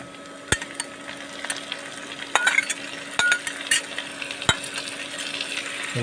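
Tomatoes fry in a generous layer of oil for an egg and carrot scramble, giving a steady soft sizzle broken by several sharp clicks and scrapes of a utensil on the pan, with no voices.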